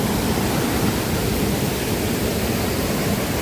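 A strong, shallow stream pours over the waterfalls of Mil Cascadas near Taxco, Guerrero, Mexico. It makes a steady, loud, close rush of water with no voices.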